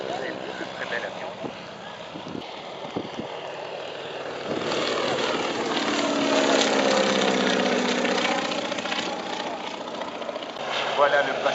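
A propeller plane at an air show drones past, its slow engines growing louder and fuller as it passes low overhead, then lingering at a steady hum.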